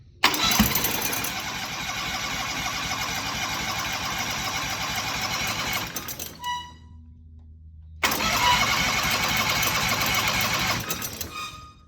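A turbocharged Predator 670 engine, smoking after a drag run, cranks and runs roughly with a loud mechanical clatter, cuts out into near silence for about two seconds, then roars back up again.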